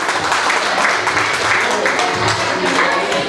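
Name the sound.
audience applauding at a 50th birthday jubilee party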